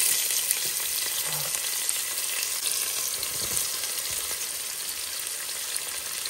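Chopped onions sizzle steadily in a hot pan, a dense continuous frying hiss with faint stirring clinks, close and fairly loud throughout.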